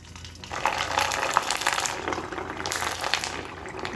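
Semolina kurwadi dropped into smoking-hot oil sizzles with a steady, loud frying hiss and bubbling, close by and without talk.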